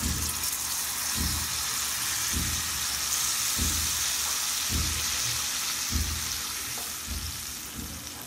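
Thin tamarind pulp pours into a hot pan for Maharashtrian panchamrut and hisses in a constant wash of sizzling, with soft regular thumps repeating about once a second.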